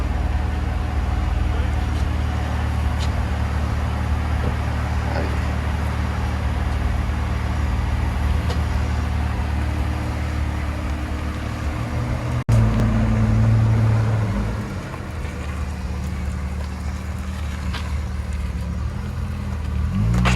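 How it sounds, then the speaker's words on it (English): A 2005 Hyundai Tiburon GT V6 with a turbo, dual exhaust and a muffler delete, its engine running with a steady low rumble close by throughout, slightly louder for a moment partway through, with no talking. "So we did a muffler delete on it."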